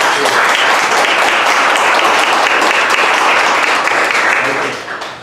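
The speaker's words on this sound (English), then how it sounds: "join me in a round of applause to thank our sponsors for their continued support" Audience applause for event sponsors at a social media talk, a loud, dense, sustained roar of many hands clapping together, holding steady for about five seconds before tapering off at the end.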